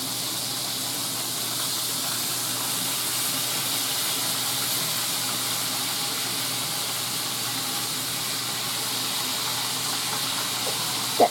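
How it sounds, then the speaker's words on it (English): Steady, loud sizzling hiss of breaded chicken fried steak frying in a pan, continuous and close, with a small clunk at the very end. "you hear that sizzling?"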